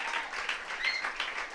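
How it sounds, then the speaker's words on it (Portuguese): A church congregation applauds, a dense, even burst of many hands clapping that fills the short stretch at moderate volume. "Vamos aplaudir Jesus para a vida dele?"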